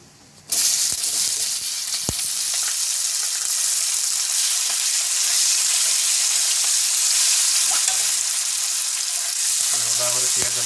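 Onions frying in oil in a pan for Odia-style chicken curry, a loud steady sizzle right after they are dropped in, close up with an occasional stir and no talking.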